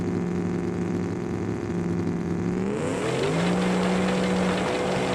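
A heavy pulling truck in a BeamNG truck pull roars at full load, its steady engine drone climbing in pitch and shifting midway as it strains down the track, loud and close throughout.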